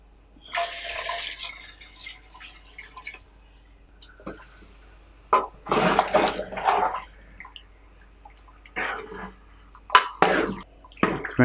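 Water splashes and pours into a large cooking pot in several bursts, with quiet pauses between, close by and fairly loud.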